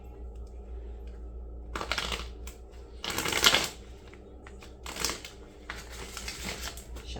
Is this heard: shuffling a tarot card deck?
yes